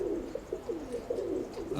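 Pigeons kept on a pigeon loft coo in repeated soft, throaty calls against a steady background murmur, fairly close and continuous for a couple of seconds.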